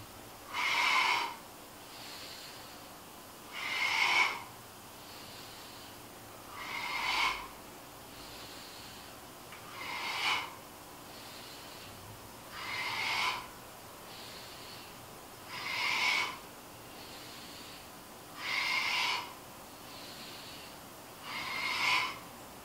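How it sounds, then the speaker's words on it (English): Slow, evenly paced breaths during a movement exercise, inhaling on the way down and exhaling on the way up, with eight clear breath sounds spaced about three seconds apart, close and alone with no talking. "we're going to inhale on the way down and exhale on the way up."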